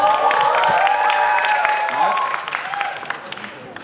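A crowd of sightseers in Taiwan cheers and claps loudly and steadily, the burst of whoops and applause tapering off somewhat toward the end with scattered claps and voices.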